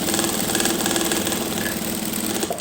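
A sewing machine stitches plates into the front part of a sleeve, a steady, close, continuous mechanical whir with a fast even rhythm that runs unbroken to the end.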